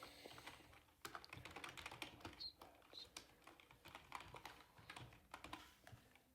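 Fingers tap out an email address on a computer keyboard, producing quiet, irregular bursts of crisp key clicks with short pauses between them, heard close up in a hushed room.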